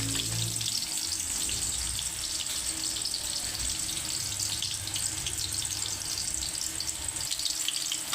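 Garlic and onion frying in a pan, a steady dense sizzle that fills the whole stretch at close range, with occasional faint clinks and no talking.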